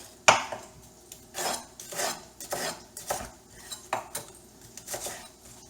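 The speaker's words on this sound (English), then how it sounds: "I'm going to take my red onion and I'm going to give that a cut." A knife chops a red onion into chunks on a cutting board, giving a series of sharp, close knocks at an uneven pace with short pauses between the cuts.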